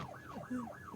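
A police car siren wails up and down in a steady cycle, rising and falling about three times within a second in a horror movie scene. It sounds fairly close and is heard with no speech.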